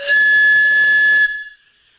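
Air forced into a tube resonates at a higher harmonic, giving a loud, steady whistling hiss that holds for over a second and then cuts off abruptly, leaving a faint fading tail.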